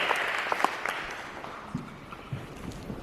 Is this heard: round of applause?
yes